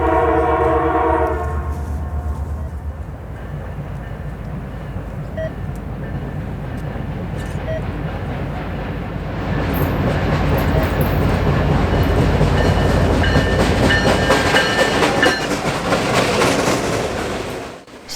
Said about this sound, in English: This train had a friendly engineer giving a few blasts of the horn.